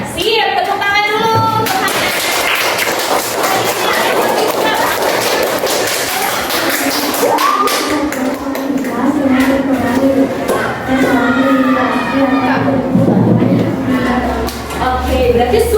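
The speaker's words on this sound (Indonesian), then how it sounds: "Siap, tepuk tangan dulu." A classroom of students in an environmental studies lesson breaks into a burst of hand clapping right after a teacher speaks, and the clapping soon fades under renewed talk and voices.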